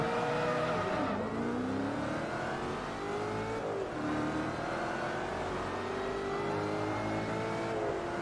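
Ford GT engine in the Forza Motorsport 3 racing game, revving hard and climbing through gears with rising and falling pitch sweeps, loud and continuous throughout with no talk.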